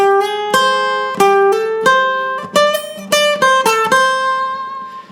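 Solo guitar plays a section of a song with string bends and fretted notes on the top strings. Close, clear plucked notes ring in a steady rhythm, about a dozen attacks with sustained tones and no voices.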